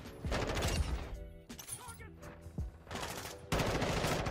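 Rapid gunfire from hip-fired weapons in Call of Duty Modern Warfare 2 bursts in several loud volleys separated by brief pauses, with a voice talking faintly underneath.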